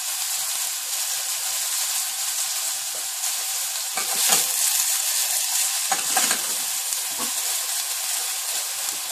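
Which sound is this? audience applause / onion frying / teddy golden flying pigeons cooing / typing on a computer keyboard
onion frying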